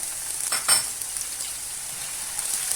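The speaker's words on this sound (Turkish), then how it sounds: "Sırayla güzelce teker teker kızartıyoruz arkadaşlar." Meat and vegetables, including carrots, sizzle steadily in a hot pan, a close, even crackle of frying with a brief clink of stirring early on.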